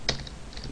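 A few keystrokes on a computer keyboard while Java code is entered in a programming tutorial, one sharp click near the start followed by fainter taps, close and alone without speech.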